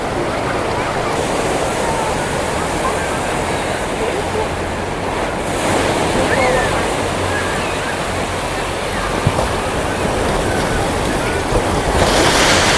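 Big ocean waves at Pandan beach in Carita, Indonesia, roll and crash in a steady, loud surf roar that continues without a break, mixed with wind buffeting the microphone.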